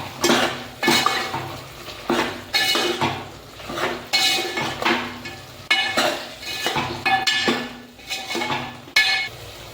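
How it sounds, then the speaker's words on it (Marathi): Spices being stirred in a cooking pot for a Kolhapuri-style village chicken rassa, a metal spoon scraping and clinking against the pot in steady repeated strokes, close and moderately loud with no talking. "हे सर्व मसाले मिक्स करून घ्या."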